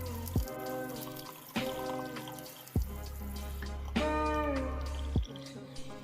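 Warm water runs from a tap against the bottom of a frozen glass or container, a close, steady trickle broken by several sharp knocks and splashes as it is handled.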